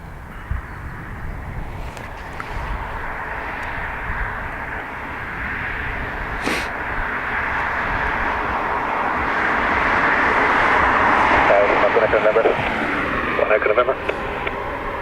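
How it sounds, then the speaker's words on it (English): An Airbus A321neo bound for Toronto at Dublin Airport gives a steady jet engine roar that slowly builds in loudness, heard from a distance with no one speaking. "So this is our 321 Neo off to Toronto."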